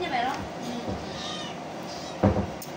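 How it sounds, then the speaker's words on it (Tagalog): A cat meows once early on, faint and brief, while people talk nearby indoors; a short knock or bump follows later. "Tumatayo na yung pusa."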